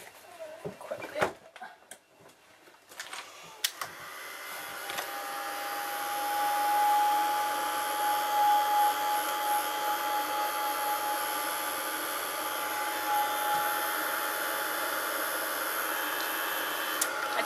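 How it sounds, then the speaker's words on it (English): A heat gun held over Mod Podge on an altered jigsaw piece, starting after a few handling clicks and then blowing as a loud, steady whirring hiss with a faint whine that holds to the end. "I'll just take my heat gun over that to dry it quickly."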